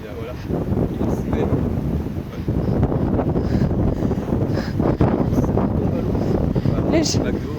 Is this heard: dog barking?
no